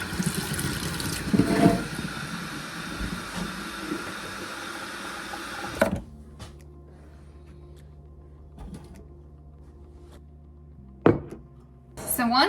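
Warm water runs from a kitchen tap in a steady, broad hissing stream for several seconds before shutting off, followed by a quiet room with a few faint clicks and knocks.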